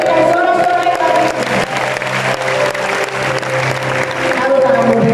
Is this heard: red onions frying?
no